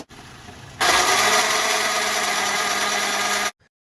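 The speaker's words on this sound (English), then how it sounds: "When shifting gears, it makes a strange rattling noise." Car with a damaged transmission starting up: a quieter mechanical hum jumps into a loud, harsh, steady rattling whir that runs for about three seconds, then cuts off abruptly.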